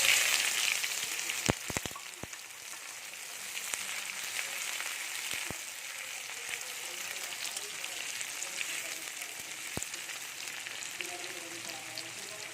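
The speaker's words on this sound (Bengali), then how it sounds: "এই যে পেঁয়াজ একদম লাল লাল ভাজা হয়ে গেছে" Chopped onions fry in hot oil with cardamom, cinnamon, cloves, star anise and bay leaves for a potato mutton curry, giving a steady close sizzle broken by a few sharp clicks from stirring.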